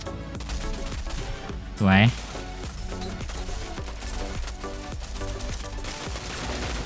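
Rapid bursts of gunfire in the mobile shooter game Rogue Company Elite crackle continuously over loud game music and effects, with one sharper rising burst standing out near the middle.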